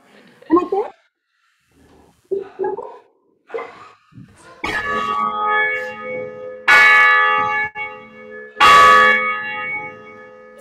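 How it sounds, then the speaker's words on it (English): A tower bell rings during a church service in a sanctuary, struck a few times with long ringing decays, after short bursts of nearby talk early on. "it will hear the ringing of the bell"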